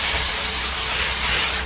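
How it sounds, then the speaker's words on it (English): Handheld steamer cleaning the interior of an Audi S5, a loud, steady close-up hiss of spraying steam that runs without a break and cuts off at the very end. "I got my steamer going. I just steam it"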